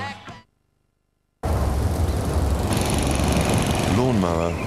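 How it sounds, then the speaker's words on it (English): A lawn mower engine runs loud and constant after a short burst of voice and a second of silence, with a rising tonal whine coming in near the end. "Lawnmower,"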